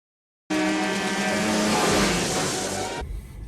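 A four-wheel drive car drives along unplowed snowy streets in Detroit, its loud steady engine and tyre noise close by and constant for about two and a half seconds before dropping off.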